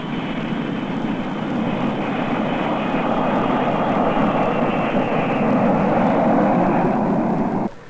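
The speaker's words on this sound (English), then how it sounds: "Slowly and carefully, their jet approaches the landing field." A Douglas DC-8-12 jet airliner landing on a runway in San Francisco gives a loud, steady engine roar that holds for several seconds before dropping away at the end.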